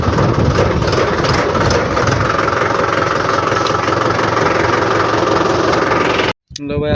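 A tractor engine runs steadily at close range on a farm field, a loud continuous mid-to-low rumble that cuts off abruptly near the end.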